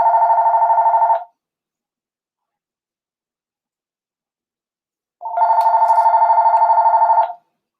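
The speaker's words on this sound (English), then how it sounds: "Oops, I got a call." Phone ringing with an incoming call, two loud trilling ring bursts, one short and one about two seconds long, close to the listener and separated by silence, with no talk.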